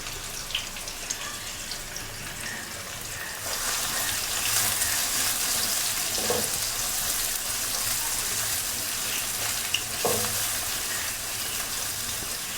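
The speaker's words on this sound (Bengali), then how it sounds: "পেঁয়াজটা দিয়ে দিই, তাহলে মজে যাবে" Onions frying in a pan for a winter vegetable and dried fish dish, heard as a steady hiss that grows louder partway through, with a couple of soft stirring knocks, close and without talk.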